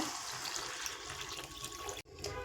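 Water poured into a pot of bottle gourd leaf curry with potato and eggplant, a steady broadband splashing rush that runs alone and close, then cuts off briefly near the end before resuming.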